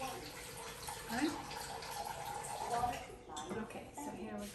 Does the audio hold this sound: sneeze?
no